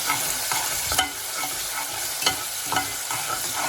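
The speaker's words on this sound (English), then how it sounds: "once the onions added, you can see sizzling" Chopped onions frying in a pan as they are stirred, a close, steady sizzle broken by scraping clicks from the stirring every half second or so, with no voices.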